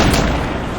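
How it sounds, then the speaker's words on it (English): A single loud, close cannon blast, a broad booming burst that fills the short moment with no talk. "the cannons go off"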